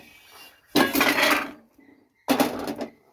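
Fried food being transferred into a bowl, two bursts of clattering metal and utensil scraping against dishware, separated by a short quiet gap.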